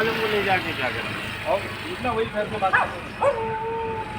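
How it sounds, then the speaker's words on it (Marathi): Several stray dogs bark and yip in short bursts in a street in Naigaon East, with drawn-out howls rising over an idling engine hum nearby. "बघा किती कुत्रे आहेत ते सगळे चावणारे कुत्रे"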